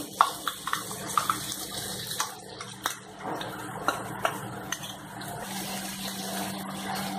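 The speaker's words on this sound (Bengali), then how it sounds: "এর মধ্যে আমি একটু জল দিয়ে দিলাম জাস্ট পোস্তটা গোলার জন্য" Water poured into a container of poppy seeds to loosen them for onion-poppy seed paste, a close trickle and splash mixed with clinks and knocks of kitchenware.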